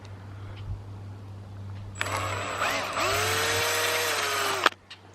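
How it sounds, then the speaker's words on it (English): A power drill spins up and runs steadily for a few seconds, enlarging mounting holes in a 7x12 cargo trailer during an LED light upgrade, then winds down over a low background hum. "I am going to get my drill going and kind of remount the hole to sort of enlarge it"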